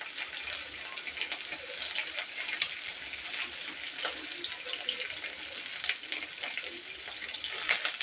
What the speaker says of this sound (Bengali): তো শুটকি মাছগুলো আমি আগে দিয়ে দিলাম